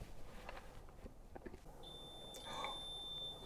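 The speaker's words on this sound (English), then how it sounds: "That's the alarm going off right beside the Bible" An electronic alarm beeps with a steady high tone beside a Bible in a room during a paranormal investigation, starting partway through and continuing to the end, faint against quiet room noise and a few soft footsteps.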